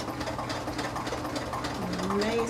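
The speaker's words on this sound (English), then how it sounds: "So I'm going to make my zigzag stitch." A home sewing machine runs a steady zigzag stitch through elastic for a tulle skirt, a continuous close mechanical whir with a faint rising tone near the end.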